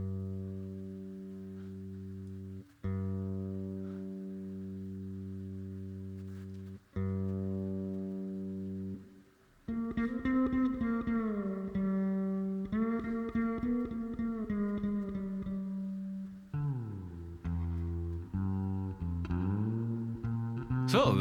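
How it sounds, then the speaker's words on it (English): Sustained tones from a Zoom LiveTrak L6max with its hall reverb setting applied run as long, held notes that change pitch in steps and then become a busier, shifting passage, with no one talking. "So let's add the first reverb setting,"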